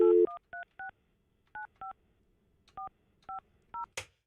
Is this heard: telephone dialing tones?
yes